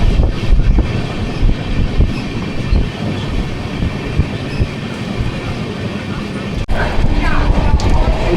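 Inside a moving train running from Kolkata to Rampurhat, a loud, continuous rumble of wheels and carriage fills the sound, with a brief jolt near the end.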